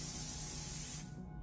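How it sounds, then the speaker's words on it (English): Kevin Murphy Session Spray Flex hairspray gives one continuous hissing burst from an aerosol can, close and steady for about a second before cutting off into faint room tone. "I'm just gonna give this a light spray over the top while it's cooling."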